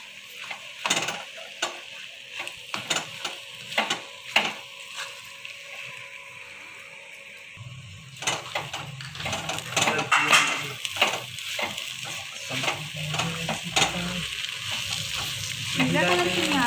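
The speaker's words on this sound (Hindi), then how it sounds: "अब हम इसमें बॉइल्ड आलू ऐड करेंगे। आलू के हमने छोटे छोटे टुकड़े कर लिए हैं। हमें इसे अच्छी तरह मिक्स करना है।" Small pieces of boiled potato are stirred into a sizzling potato stuffing in a frying pan, the spoon clinking and scraping close by in uneven strokes. The sizzle swells louder and fuller partway through and continues to the end.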